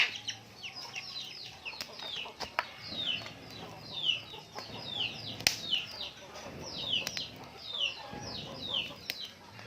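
Native chickens cluck and chirp in repeated short bursts around an outdoor cooking spot, with occasional wing flaps and scattered background noise, fairly faint and steady throughout.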